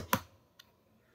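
A single sharp computer mouse click, close and clean, followed by a fainter second click about half a second later in a quiet room.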